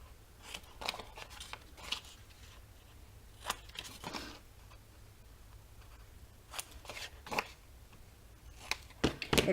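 Scissors snip the corners of a scored, folded paper card in a quiet room, giving a series of short, crisp cuts at irregular intervals with faint paper rustling between them.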